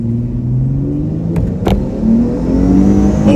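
A supercharged V6 car launches and accelerates hard, its engine note rising steadily in loud, sustained revving heard from inside the cabin, with a couple of brief knocks partway through.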